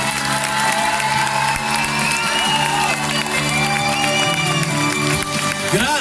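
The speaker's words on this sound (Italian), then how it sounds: "io direi facciamogli un grande applauso, facciamoci sentire" Outdoor concert crowd at a 2019 tribute show in Novi Ligure, Italy, breaks into loud, sustained applause and cheering alongside music and a voice, filling the whole stretch without a break.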